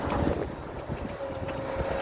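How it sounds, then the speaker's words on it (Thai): Strong wind buffets the microphone in a continuous, loud rumbling roar beside a road being cleared of trees by a Kobelco SK200 excavator, with no speech. "ลมแรง"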